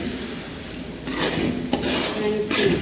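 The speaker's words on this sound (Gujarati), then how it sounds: "બરાબર હલાવી દેવાનું" Amla laddu mixture being stirred in a pan, with repeated scraping and knocking of a spoon against the metal pan over a low background, the strokes coming in uneven bursts close up.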